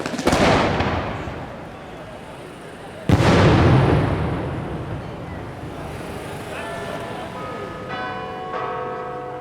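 Maroon warning charges are fired before a building demolition implosion near historic sites. Two loud, sharp bangs sound about three seconds apart, and each rolls off in a long, echoing decay. Faint tonal ringing and beeping follow.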